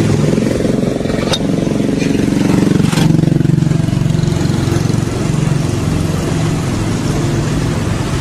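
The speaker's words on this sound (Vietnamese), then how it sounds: "Xe nổ rất là êm luôn nha các bạn." An overhauled 3.5-litre 2GR V6 in a Toyota Camry idles steadily and loudly from start to finish, a smooth continuous low hum with no knocking or revving.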